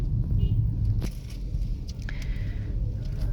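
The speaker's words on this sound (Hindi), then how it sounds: "तो मुजाहिद भाई ने अभी गाड़ी पार्किंग कर दिया" A car being parked at a crowded fish market in Madina, its low engine rumble steady and close, with faint clicks and scuffs and some voices nearby.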